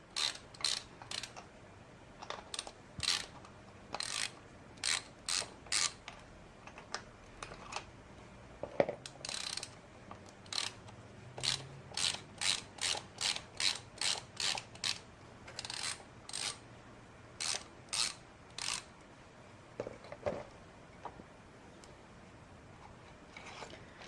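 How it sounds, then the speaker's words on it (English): A ratchet with a half-inch deep well socket turns out the starter studs on a Harley Sportster. Long runs of quick, close clicking bursts repeat steadily, loud and alone with no talk. "we're going to take these two studs out"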